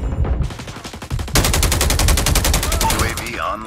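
Heavy automatic gunfire erupts in a Call of Duty 10v10 Kill Confirmed match, starting with rapid bursts and then a loud, sustained rattle of fire close up.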